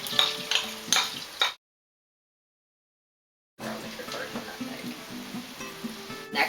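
Shallots dropped into melted butter in a hot pan give a crackling sizzle with a few utensil clinks. The sound cuts out briefly, then resumes as a steady fry.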